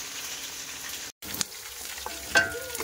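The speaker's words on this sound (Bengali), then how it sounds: "এই যে মাথাটা কিন্তু ভালোভাবে ভেজে নিচ্ছি ধীরে ধীরে" Fish head frying slowly in oil with chopped onion and panch phoron in a home kitchen: a steady low sizzle, briefly cut out, then scraping stir strokes and a sharper spatter near the end.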